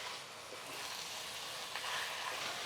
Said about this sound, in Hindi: कीमे को अच्छी तरह से हमें फ्राई कर लेना है प्याज के साथ